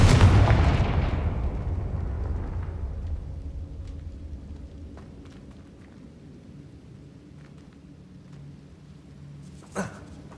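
A Confringo fire spell in Hogwarts Legacy erupts in a heavy, booming blast that rolls away over several seconds into a low rumble, with a sharp crack near the end.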